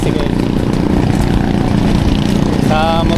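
A motorcycle-based tricycle engine runs in a loud, steady, close rumbling drone throughout, with a brief tonal sound near the end.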